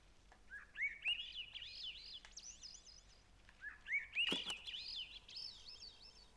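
Birds sing in the video game Season: A Letter to the Future, two bursts of bright warbling, whistling phrases at moderate distance over a quiet outdoor background, with a brief sharp knock in the second burst.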